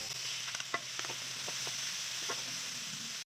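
Sliced mushrooms fry with bacon in a pan for carbonara, giving a steady, close hiss of sizzling fat with a few soft clicks from stirring throughout.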